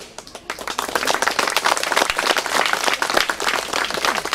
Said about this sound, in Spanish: les vamos a pedir ese fuerte aplauso para todos ellos.